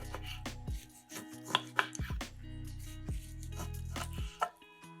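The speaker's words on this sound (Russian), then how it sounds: "Ребрышки с мясом нарезаем порционными кусочками." Heavy knife chops cut pork ribs into portion-sized pieces, a series of sharp, irregular thuds on a board set against soft background music.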